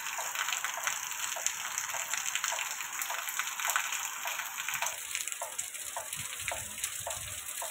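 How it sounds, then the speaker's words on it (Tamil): Steady, dense heavy rain falls continuously, a hissing wash of drops with some splashing patter, moderately faint and unbroken, with no talking. "நல்ல மழை பெஞ்சிட்ருக்கு"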